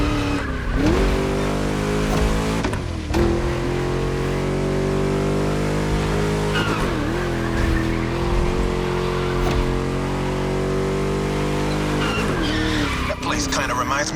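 A V8 race car in The Crew Motorfest racing game holds a deep, steady engine drone with long tire squeals sliding through it, loud and continuous for the whole stretch, with a voice talking over the engine.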